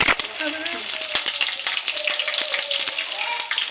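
Onions with shahjeera and green chillies fry in a hot pan, a bright, close sizzle with crackles and stirring scrapes running continuously through the short stretch.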